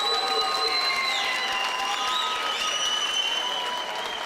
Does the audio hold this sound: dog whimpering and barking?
no